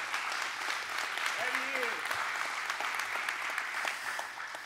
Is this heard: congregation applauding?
yes